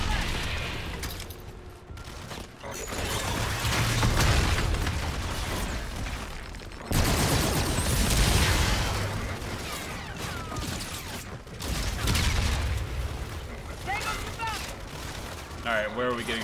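Dense gunfire and explosions fill a Call of Duty Infinite Warfare firefight on PS4, bursts of shots and booms landing repeatedly over continuous battle noise while voices talk throughout.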